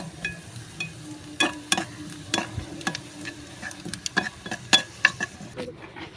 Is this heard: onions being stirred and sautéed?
yes